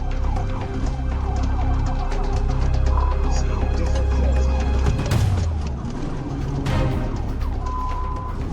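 A police car siren wails during a vehicle pursuit, loud and close, cycling through fast rising and falling tones over the roar of engines and road noise, with no speech.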